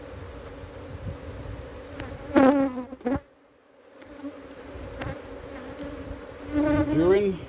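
Honey bees fly in and out of a hive entrance, carrying pollen, a constant near buzzing with individual bees zipping loudly past the microphone in quick swooping whines, one brief gap of near silence.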